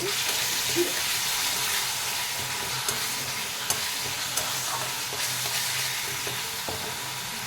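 Masala for an aloo potol macher jhol is stirred and fried in a pan, a steady broadband sizzle with scraping stirs and small clicks running throughout, close and alone without talk.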